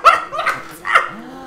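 A dog barking in the video game Earthbound, three short, loud, close yelping barks in quick succession, with no talking.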